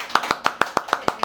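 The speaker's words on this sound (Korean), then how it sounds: "자, 그러면 박수로 환영해 보도록 하겠습니다." An audience claps to welcome a guest at a talk event, a crisp, evenly spaced run of about eight sharp claps in quick rhythm, close and clear.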